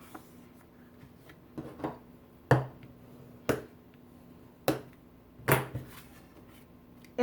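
Handmade paper card being folded and creased, a series of about six sharp crisp snaps and presses spaced across the stretch, close and fairly quiet over a hushed room.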